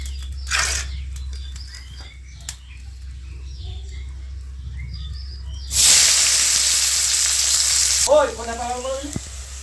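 Chopped onion dropped into hot oil with whole garam masala and sugar, bursting into a loud, bright sizzle that holds for a couple of seconds after quieter kitchen clatter, then cuts off.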